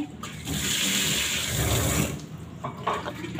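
Tap water runs steadily into a sink while an apple and a pear are washed under it, a continuous close splashing flow that thins out near the end.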